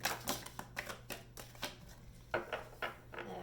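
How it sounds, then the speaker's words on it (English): A deck of tarot cards is shuffled, producing faint, quick riffling and slapping bursts in an uneven rhythm, with a short pause midway before several more shuffles. "And I'll do one last shuffle."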